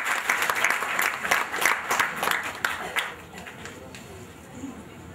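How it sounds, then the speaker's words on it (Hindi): Audience applause at a book release event, a dense burst of clapping that is loudest at first and then thins out and fades over about five seconds. "इसी वक्त चेयरमैन डॉक्टर रवि मलिक जी के लिए एक बार जोरदार ताली।"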